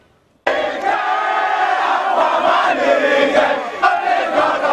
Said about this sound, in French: Une foule en liesse devant le palais présidentiel.